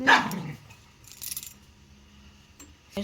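A single loud, sharp dog bark up close at the start, followed by quieter rustling and a faint clink near the end.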